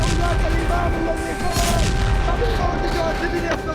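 Booming blasts and rumbling from Israeli bombing near Beirut, heard as a steady, dense roar of explosions in news footage with some background voices.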